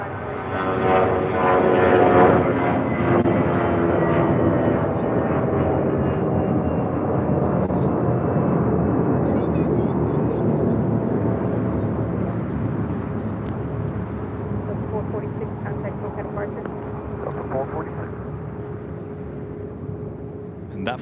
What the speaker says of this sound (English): That flight taking off was Delta Airlines flight 446 heading to Austin, Texas.